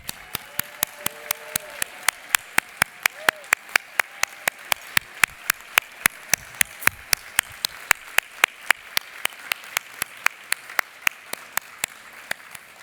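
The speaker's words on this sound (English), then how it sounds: "please stand so we can recognize you and applaud you" Audience at the 2025 Each Moment Matters Luncheon recognizing honorees, heard as a sparse, evenly spaced run of sharp single claps that carries on steadily for several seconds, fairly faint and close, with no talk.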